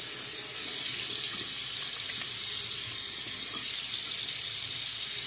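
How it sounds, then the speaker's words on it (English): Steady water running from a bathroom tap into a sink while a face is rinsed after a shave, a continuous close hiss with no talking. "I'm going to rinse the face"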